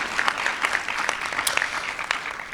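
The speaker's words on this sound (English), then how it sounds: "Can we please give a round of applause to all our participants as they make their way off the stage?" Conference audience claps for participants leaving the stage, a steady, dense wash of applause from a crowd in a hall, continuous throughout.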